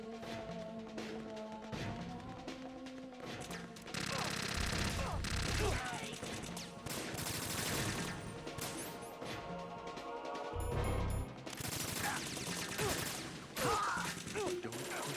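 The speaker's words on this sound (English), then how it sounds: "I'm shooting." Gunfire in Metal Gear Solid 2 comes as loud repeated volleys and crashing impacts in several dense bursts, layered over game music and in-game voices.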